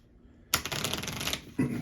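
A deck of game cards for the board game Soviet Dawn is shuffled close up, with a long crisp riffle followed by a short second burst.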